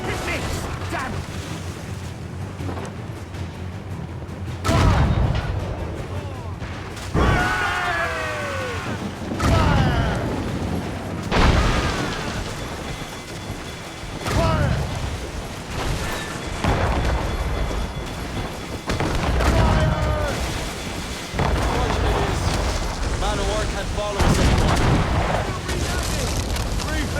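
Naval cannon fire in Assassin's Creed Rogue, heavy booming shots going off repeatedly amid the clatter of a ship battle, with shouted commands and crew voices throughout.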